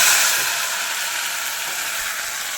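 A paste of ground tomato, ginger, garlic and shallots sautés for rasam over a high flame, giving a steady close sizzle that is loudest at the start and then holds even, with no talking.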